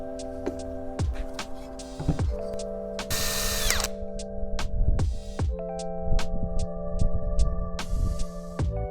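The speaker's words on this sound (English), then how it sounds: "we're going to drill the holes and put that in just there" Power drill boring holes for a brace on a DIY coffee table, several short bursts of whirring with pauses between, close and fairly loud over a steady background hum.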